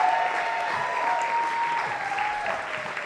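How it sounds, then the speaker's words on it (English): An audience at a comedy show applauds steadily, a dense, sustained clapping that fills the room at an even level throughout. "Alan Shane Lewis, give him a round of applause."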